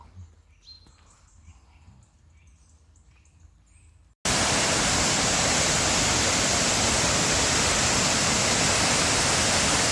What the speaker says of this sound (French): Cascade de Baume-les-Messieurs